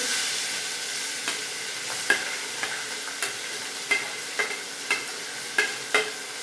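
Curry leaves and onion frying in a pan, a steady close sizzle broken by regular clicks of a spoon stirring roughly every half second, with no voices.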